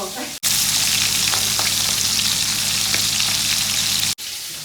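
Steady, loud sizzling of prawns frying in hot oil, with a low cooking hum beneath and a few faint clinks; the sound cuts briefly at start and end.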